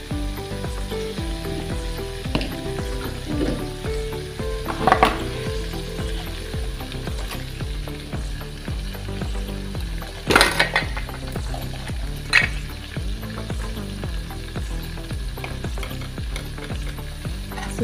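Masala for homemade Maggi noodles frying in a pan, giving a continuous close sizzle broken by sharp scrapes and clinks as a spoon stirs it, with louder metallic knocks now and then and no talking.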